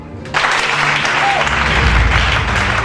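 A church congregation breaks into sudden loud applause, a dense sustained roar of clapping from many hands that continues steadily to the end.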